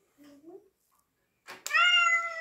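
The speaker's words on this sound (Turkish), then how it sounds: "Bir kedi duyuldu." A single clear cat meow, drawn out and fairly close, follows a brief soft vocal sound and a short rustle.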